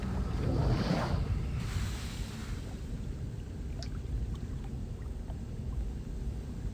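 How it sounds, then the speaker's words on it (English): Water drains from a chamber in the Riven puzzle game as a steady rushing wash with a louder surge at the start, continuing under scattered faint clicks and no speech. "So we want to drain the water."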